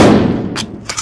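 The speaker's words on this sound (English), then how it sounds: "I know I updated the sound for the AK, let's see if it has the old sound" Gunfire from an AK rifle in an indie zombie video game, with a short sharp report and a couple of quick follow-up cracks, heard close and clear with no talk.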